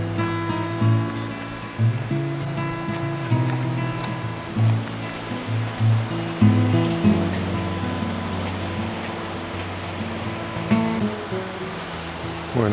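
River near Bariloche rushing beneath a movable bridge, a steady broad wash of flowing water heard up close, with low tonal hum from the surroundings and no talking.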